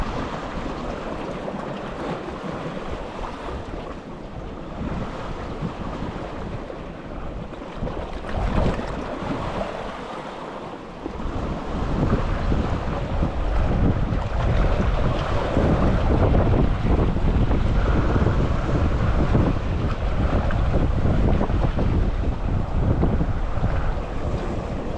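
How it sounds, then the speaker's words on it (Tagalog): Strong wind buffets the microphone on a small fishing boat at sea, a loud continuous roar with waves and the hull's rumble that grows heavier midway, no voices. "Lakas ng hangin, hindi ako makapurma."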